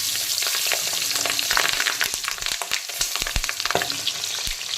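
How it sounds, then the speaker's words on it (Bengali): Topse fish coated in salt and turmeric fry in hot oil, giving a busy, close sizzle with frequent sharp pops and spatters throughout. "এখন এই গরম তেলের মধ্যে দিয়ে দেব লবণ আর হলুদ মাখানো তপসে মাছ"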